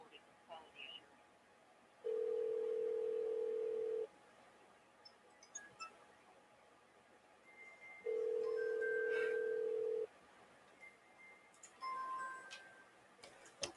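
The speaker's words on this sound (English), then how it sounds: "That was my phone ringing." A phone rings on a test call with two long, steady tones about two seconds each, separated by silence, followed by a few faint beeps and clicks in a quiet room.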